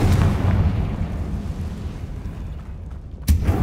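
A Confringo spell explosion in Hogwarts Legacy, heard as a loud rumbling blast that fades over a few seconds before a second sharp burst hits near the end.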